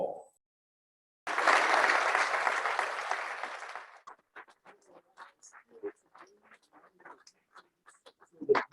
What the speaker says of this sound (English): So I'd like you to give a round of applause for Paul.